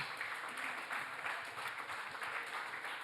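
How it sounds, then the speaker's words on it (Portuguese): A church congregation at a men's worship service applauds steadily, a continuous wash of clapping from a crowd heard at moderate distance and fairly quiet, lasting throughout. "Vamos dar uma salva de palmas para Jesus."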